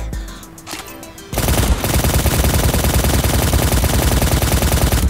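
Rapid machine-gun bursts rattle loudly and continuously in the mobile battle royale shooter Quantum, starting abruptly after a quieter moment and then hammering on without a break.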